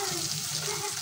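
Shrimp, onion and chili fry in hot oil with a dense, continuous sizzle, close and loud, with no voices.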